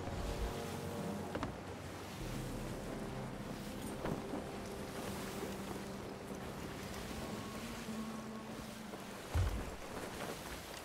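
Sailing ship at sea in Sea of Thieves, with faint wind and water wash plus creaks and hull knocks, one thump near the end, and no talking.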